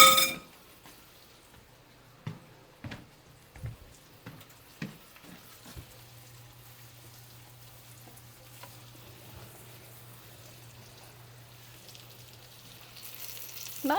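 Green tomato slices fry in a pan with a soft, steady sizzle, broken early on by a few sharp clinks and taps, all over a low, constant hum.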